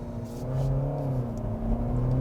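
A Genesis G80's 2.2-liter diesel engine pulls in first gear, a smooth low hum with a gently rising tone as the car accelerates, heard steadily from inside the cabin.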